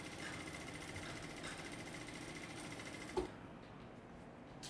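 A sewing machine runs steadily while stitching an edge seam on fabric, a close, even mechanical whir, then a sharp click near the end as the motor stops and the sound drops to faint room hum.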